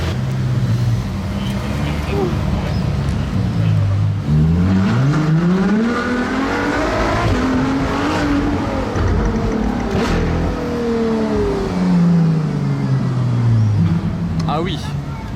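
A V12 supercar accelerates at the Monaco Grand Prix, its engine rising and falling through gears in loud sweeping revs, close and continuous, with people talking over it.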